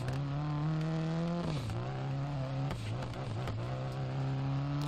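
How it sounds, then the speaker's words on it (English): A Subaru STI rally car engine in the Dirt Rally video game runs loud and close, holding a strong buzzing tone that drops briefly during gear shifts before climbing back, continuous with no talking. "Love the sound of that Subaru STI engine though."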